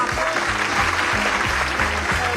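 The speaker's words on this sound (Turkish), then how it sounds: "oyuncu arkadaşlar alkışlayın" Studio audience and actors on a Turkish TV comedy set applaud together, a steady dense wash of clapping that holds at full level throughout, with faint voices and music tones mixed underneath.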